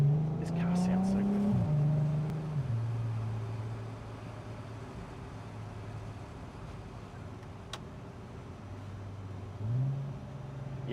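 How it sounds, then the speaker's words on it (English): A car engine hums up close while driving in early morning rush-hour traffic, rising and falling in pitch as it shifts, and it fades to a steady drone under road noise. "This car sounds so good."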